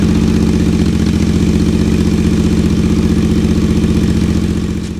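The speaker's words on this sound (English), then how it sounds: "Here's the full Enfield Precision system with the baffles fitted." A Royal Enfield Interceptor 650 idles with a full Enfield Precision exhaust system and baffles fitted, a loud, close, steady low thumping parallel-twin beat that stays even and eases off slightly at the end.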